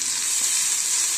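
Spiced oil sizzling steadily in a pan with hing as raw chana dal goes in for Bengali dal puri filling; a continuous close, bright frying hiss throughout with no voices.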